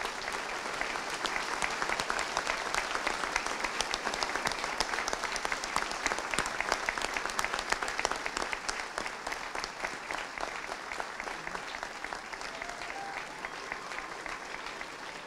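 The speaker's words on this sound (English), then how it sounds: "let's give them a stirring round of applause." A graduation ceremony audience applauds for military-bound students, a steady, full round of clapping from a large crowd that holds strong for the whole stretch and eases only slightly at the end.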